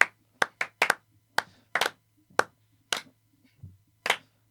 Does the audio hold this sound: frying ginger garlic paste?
no